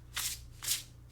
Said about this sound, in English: So the overhand shuffling is actually decent.